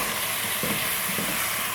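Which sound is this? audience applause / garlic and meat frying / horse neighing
garlic and meat frying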